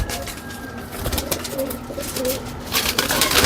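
Pigeons of several breeds coo softly nearby, with low repeated calls over a background of faint clatter and rustling.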